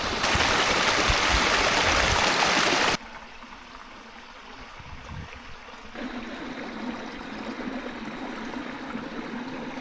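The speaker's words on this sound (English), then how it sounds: "Water flowing." A small creek with water flowing over rocks near a little cave, a steady rushing burble that is loud and close at first, then softer and more distant, then a little louder again, with no talking.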